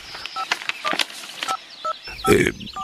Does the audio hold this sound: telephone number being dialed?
yes